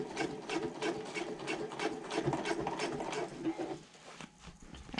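A sewing machine runs down a handbag liner seam with a backstitch at the start, a close, rapid, slightly raspy stitching that continues for several seconds before dropping away near the end.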